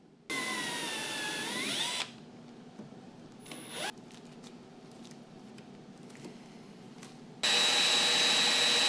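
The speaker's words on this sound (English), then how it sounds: "let me get drilling all of the holes" A power drill whines loudly for a couple of seconds, drilling holes for rivet nuts to mount a Lexan windshield on a C5 Corvette, then quieter workshop clatter, then the drill runs again at full speed near the end.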